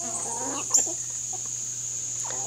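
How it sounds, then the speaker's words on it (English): Pet hens cluck in short bursts over a steady background hum, with a brief knock partway through and fainter clucking returning at the end. "I love my chickens."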